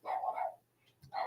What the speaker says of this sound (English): These dogs. Okay, I can hear them.